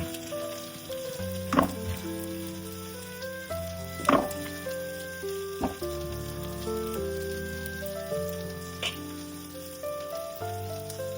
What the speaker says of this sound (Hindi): और इसे भी मसाला के साथ थोड़ी देर भून देती हूँ।